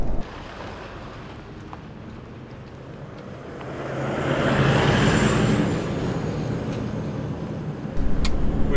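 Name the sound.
Toyota Hilux driving on gravel road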